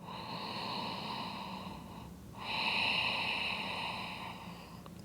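A slow, deep breath drawn in and let out during a yoga shoulder stretch, a soft airy hiss in two long phases close to the microphone, ending in a brief bump.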